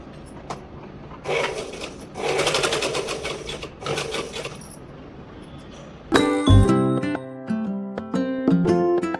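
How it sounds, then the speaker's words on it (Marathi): A sewing machine stitching a baby frock made from a blouse piece, heard in a few short whirring bursts, followed by sharp metallic clinks and rattles as the fabric is handled close by. "तर आपण सगळ्या दोन्ही साईडच्या मधल्या भागाने त्या शिलाई मारून घेतली आहे"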